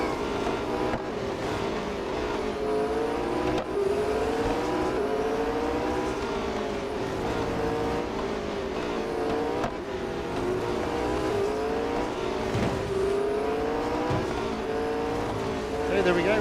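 Race cars in Real Racing 3 roar and rev continuously as they battle past a back marker, engine pitch rising and falling through gear changes, with a commentator talking over the game sound throughout.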